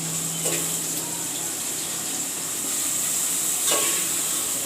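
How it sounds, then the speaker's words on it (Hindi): Onions frying in a pan over lowered heat, a steady close sizzle running throughout with two brief brighter bursts of spattering, no voices. "प्याज तल रहे हैं।"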